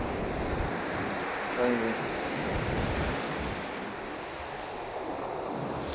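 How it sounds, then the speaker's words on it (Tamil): Steady sea breeze and surf wash at a seashore, a continuous loud rushing roar with wind buffeting the microphone, while someone speaks briefly over it. "கடல் காற்று வாங்குறது அவ்வளோ சுவாரஸ்யமாக இருக்குது"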